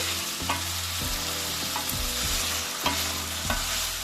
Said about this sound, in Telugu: ఒక 5 నిమిషాలు ఫ్రై చేసుకోండి